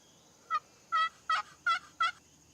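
Wild turkeys gobbling in an open field, five short clucking calls in a loose rhythm over a quiet steady background hiss, fairly clear and at moderate distance.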